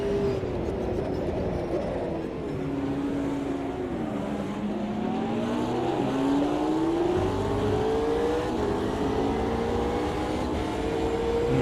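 A race car in a racing video game accelerating: a steady, loud engine drone whose pitch climbs gradually and smoothly through the gears, with a brief dip midway before rising again, continuous throughout.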